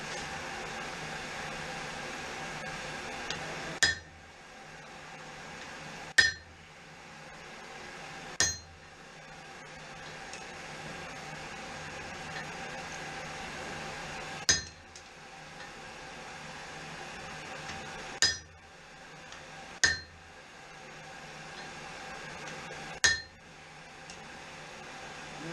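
Hot steel forged into a mezzaluna half-moon knife, struck by a hammer in sharp, isolated ringing blows spaced a few seconds apart, about seven in all, against a quiet hum of shop noise.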